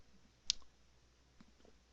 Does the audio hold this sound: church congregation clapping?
no